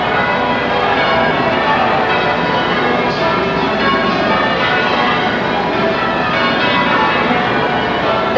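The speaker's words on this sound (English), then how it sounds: "The bells will be pealing for 4 hours altogether from St. Paul's Cathedral" St. Paul's Cathedral's bells ring a continuous Stedman peal for a royal wedding, a dense wash of overlapping clangs heard loud and steady amid crowd noise.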